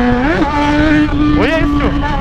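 A Yamaha XJ6 motorcycle revs hard, its engine note sweeping up in rising whines and falling back, close and loud, while people talk excitedly over it.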